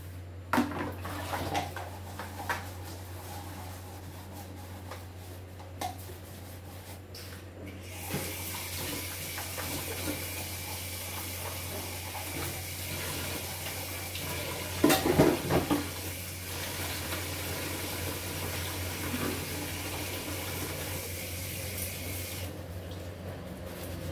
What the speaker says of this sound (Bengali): মানে এতগুলো বাসন মাজতে হবে। জল অপচয় করে লাভ নেই।